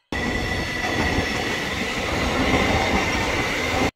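A train runs express through a Melbourne suburban station without stopping, a loud, close, continuous rush of wheels and rail noise that fills the whole few seconds.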